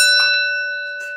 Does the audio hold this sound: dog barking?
no